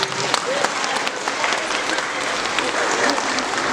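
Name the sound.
wedding guests applauding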